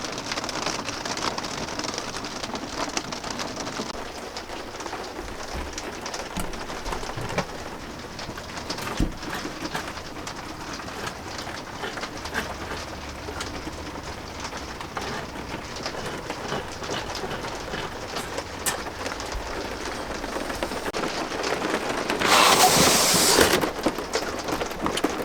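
Rain patters steadily on the roof of a camper van on a wet Sunday morning, a continuous close drumming with occasional heavier drips and a louder burst near the end, while birds call faintly outside.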